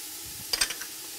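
Vegetables sweating in a pot with cilantro and oregano for Puerto Rican soup give a soft, steady sizzle, broken midway by a few brief scraping bursts of stirring.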